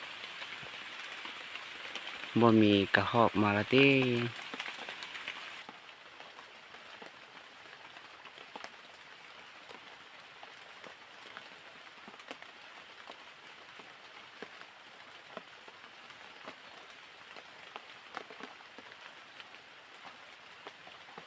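Steady rain falls outdoors during a bird and squirrel hunting trip, a constant fine patter of drops with scattered louder taps, continuing alone after a man's brief loud remark near the start.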